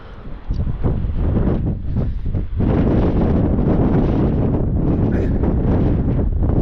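Strong, steady wind buffets the microphone in dense fog at a mountain pass, a loud continuous roar and rumble with gusty surges and no voices heard.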